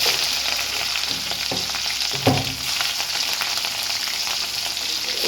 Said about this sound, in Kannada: ಈಗ ಸಾಸಿವೆ ಹಾಕಿದ್ದೀನಿ ರೀ.